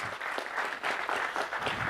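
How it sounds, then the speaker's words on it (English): Audience members at an innovation competition session clap for presenters in a brief, moderately quiet stretch of steady applause. "Let's give them a round of applause"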